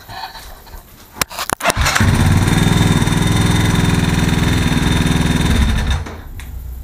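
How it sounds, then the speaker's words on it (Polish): A homemade tractor engine cranks on its starter motor with a few sharp bursts, catches and roars at a loud, steady idle for several seconds, then drops off toward the end. "Pokażę jak odpala teraz na tym rozruszniku."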